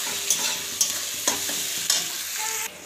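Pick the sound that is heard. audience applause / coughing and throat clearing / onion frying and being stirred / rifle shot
onion frying and being stirred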